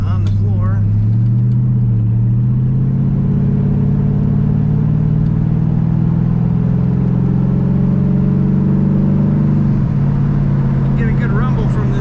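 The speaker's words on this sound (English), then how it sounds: "You get a good rumble from this car's exhaust" A 1936 Chevrolet Master Coupe with an automatic transmission and aftermarket gauges idles with a steady, deep exhaust rumble and a slow rise in engine pitch, close and loud, under someone speaking.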